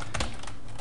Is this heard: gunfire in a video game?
no